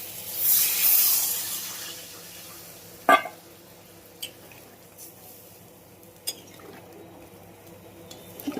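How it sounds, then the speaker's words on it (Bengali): Water goes into a curry base of sautéed spices in a hot pan. A brief rushing, hissing surge comes first, then quiet clinks and taps of a utensil against the pan. "এবার আমি জলটা দিয়ে দেবো"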